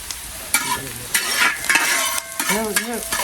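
Onions for chicken biryani sizzle in a hot pan while a utensil stirs and scrapes them in repeated strokes, with a few metallic clinks.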